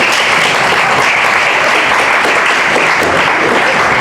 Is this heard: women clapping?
yes